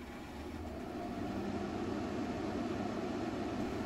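A Frigidaire window air conditioner runs on its high setting, giving a loud, steady whooshing hum of fan and airflow that holds constant throughout.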